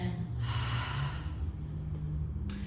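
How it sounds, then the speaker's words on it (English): Ocean breath, a slow breathing technique with a soft whispering rush from the back of the throat, heard up close as long hissy exhales with no talking. "using the same muscles as you would to fog up a glass or a mirror with, creating that whispering sound of the"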